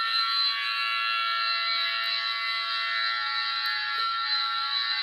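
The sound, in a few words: Emergency Alert System (EAS) alert tones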